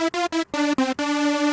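A Serum software synth with unison set to 16 voices on both oscillators plays a bright, buzzy, thick tone, first as several quick staccato stabs, then as a longer sustained note.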